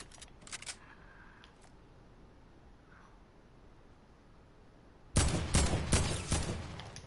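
Sharp gunshots from a video game firefight, a few faint cracks early on, then a loud dense burst of rapid shots near the end after a quiet stretch.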